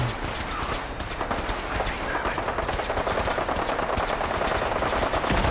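Enemies exchange rapid automatic gunfire in Fallout 4, with dense bursts and single shots crackling continuously and growing slightly louder toward the end.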